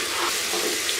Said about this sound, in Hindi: अब टमाटर को इतना भून लेंगे कि टमाटर अच्छी तरीके से गल जाए।